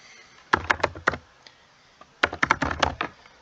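Two quick bursts of typing on a computer keyboard while writing code, crisp close key clicks in rapid clusters separated by a short pause.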